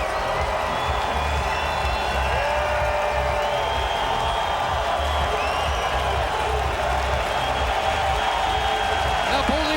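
A stadium crowd cheers and roars steadily throughout a CFL football game between the Toronto Argonauts and Calgary Stampeders, with scattered whoops and clapping in a continuous loud wash, while a commentator talks over it.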